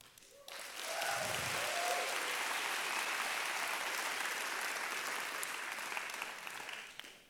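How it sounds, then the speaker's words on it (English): A conference keynote audience breaks into applause after a brief quiet moment, the dense clapping swelling quickly and holding steady for several seconds before tapering off at the end. "We're going to try clapping."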